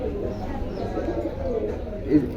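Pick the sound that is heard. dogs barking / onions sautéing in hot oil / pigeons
pigeons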